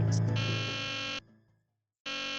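A harsh, loud in-game alarm buzzer from the horror game The Deadly Device blares steadily for over a second, drops out into silence, then starts blaring again.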